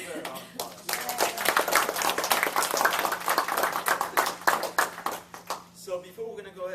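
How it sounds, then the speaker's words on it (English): A small group claps in a steady patter for several seconds, close by, with people talking over the applause. "Let's give her a round of applause."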